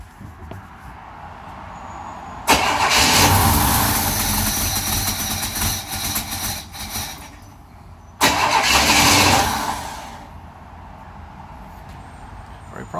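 A 1963 Chevy Nova with its 194 engine cranks and catches on first fire in two loud bursts, the first running several seconds before dying back, then a second start that settles toward a quieter idle.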